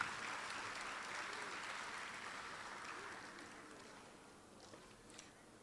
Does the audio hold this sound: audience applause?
yes